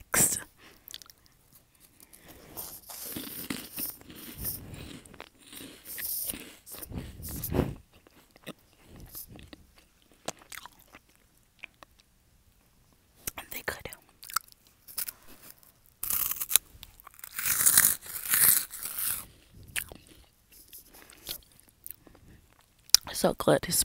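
Crunchy hot Cheetos puffs eaten close to a microphone in an ASMR setting, with bursts of crisp crunching and wet chewing in irregular runs separated by quiet pauses, plus soft bag rustles.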